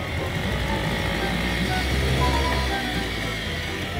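A small motor on a Citroën C3 Pluriel converted into a boat runs with a steady droning rumble, continuous and fairly loud throughout.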